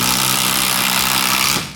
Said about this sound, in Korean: 공회전으로 돌 때는 되게 카랑카랑한 왜 이런 소리가 났는데